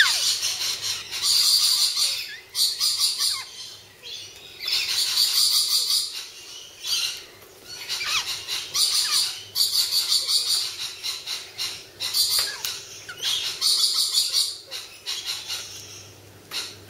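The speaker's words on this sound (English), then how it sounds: "This is a Leadbetter's cockatoo, also known as the Major Mitchell's cockatoo," A Leadbeater's (Major Mitchell's) cockatoo calls at a Cornwall bird park, giving a repeated series of loud, harsh, wavering screeches in roughly regular bursts about every two seconds, close by.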